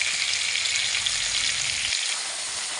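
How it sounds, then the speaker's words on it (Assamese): Small shrimp and fish fry in hot oil with jeera in a home kitchen, giving a loud, steady, crackling sizzle that continues without pause, with low bubbling that drops away near the end. "এয়া মাছকেইটা খুব সুন্দৰভাৱে ভজা হৈ গৈছে"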